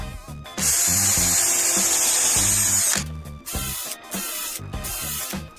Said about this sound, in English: And then just screw them onto your block, leaving one side hanging out.